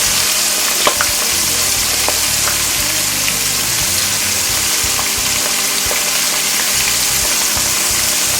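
Seafood such as lobster tails, calamari and prawns frying in a pan gives a loud, steady sizzle throughout, with occasional faint stirring clicks and no voices.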